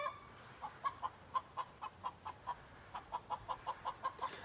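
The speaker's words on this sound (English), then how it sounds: "This cacophony of chicken noises is unacceptable." Chickens cluck in a quick, steady series of short calls, fairly faint against a quiet background, with no one talking.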